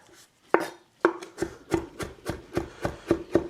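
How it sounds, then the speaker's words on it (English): A knife chops meat finely by hand on a board, a series of about ten sharp, close thuds in a steady, even rhythm with no talking. "cut it nice and fine, because you want to get a good distribution throughout our minced meat"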